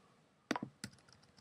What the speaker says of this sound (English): move that over just with the keyboard, the arrows,